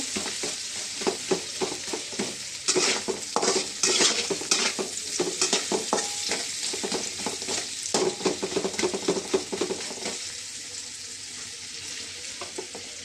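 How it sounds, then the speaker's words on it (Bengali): Polao rice frying and being stirred in a pan, a steady loud sizzle with frequent scraping and clinking of a utensil against the metal; no voices. "তারপরে পোলাও চাল দেব। ভেজে করে নেব।"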